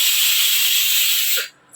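Pressure cooker on a home kitchen stove letting out a loud, steady hiss of steam that runs for about a second and a half, then cuts off abruptly.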